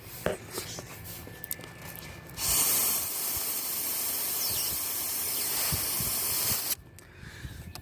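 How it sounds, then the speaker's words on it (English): A steady rushing hiss of air blown through a leaking turbo boost hose bursts in and holds for about four seconds before cutting off, with faint handling noises around it. "I'm gonna blow on this hose and let you guys hear what's going on here"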